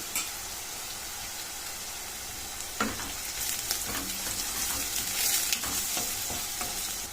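Crushed garlic cloves and curry leaves fry in hot oil for a radish-greens stir-fry, a steady close sizzle with a sharp crackle burst near the middle and occasional spatula scrapes, no voices.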